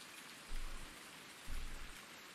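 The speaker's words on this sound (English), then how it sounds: "it's raining." Rain falls steadily in the video game Farming Simulator 19, a soft constant hiss with two low rumbling swells, faint and without voices.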